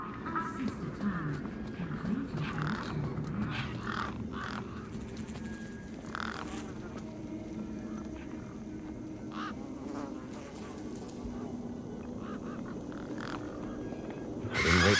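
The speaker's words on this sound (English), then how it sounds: "Those birds weren't going to let me anywhere near the back of the truck." Birds squawk and caw around a truck in the video game Beyond a Steel Sky, a busy scatter of harsh calls over a steady buzzing game ambience, with no speech.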